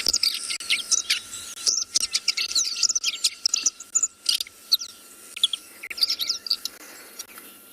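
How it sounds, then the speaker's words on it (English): A red-backed shrike's warbled call, played back at sunrise on a Kalahari safari at Tswalu, comes as a busy run of quick, high chirps and twitters over a steady insect hum, with no talk. "This is the call of the red-backed shrike."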